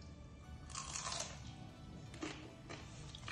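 Crusted fried shrimp tails are bitten and chewed up close, giving a few crisp crunches in quick bursts against a quiet background.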